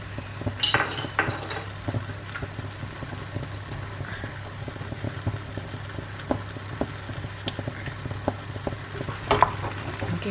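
Butternut squash flesh sizzles gently in a pan and is stirred through, with scattered scrapes and light clinks of a utensil against the pan over a steady low frying hiss.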